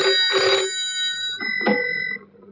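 A telephone rings twice in bright electronic bursts, close and loud, with a sustained tone lingering between rings.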